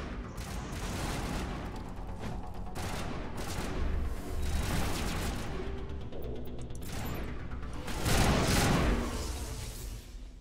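Gunfire bursts in the Mass Effect Legendary Edition video game, loud shots and mechanical clatter in repeated volleys with a heavy burst near the end, no talking.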